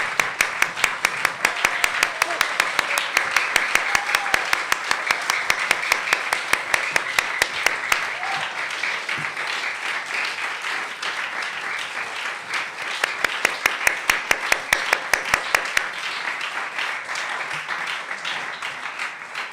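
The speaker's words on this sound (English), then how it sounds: "could we just give them all another great big clap?" Sustained applause from an audience clapping for performers at the close of a live-streamed school music concert, dense and steady throughout, with a few sharper nearby claps standing out and brief faint voices underneath.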